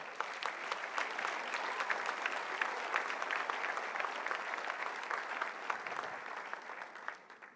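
Sustained applause from a church congregation during a sermon, steady and dense clapping throughout, fairly loud and close, easing slightly at the very end.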